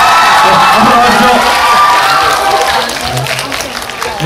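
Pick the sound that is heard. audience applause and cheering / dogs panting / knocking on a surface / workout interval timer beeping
audience applause and cheering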